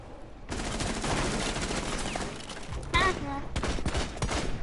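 Rapid bursts of video game gunfire crackle through a park map match, a dense stream of shots with a brief synthetic whistle partway through, while players talk over the action.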